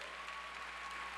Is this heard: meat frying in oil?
no